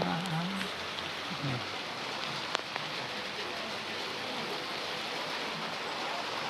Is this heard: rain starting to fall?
yes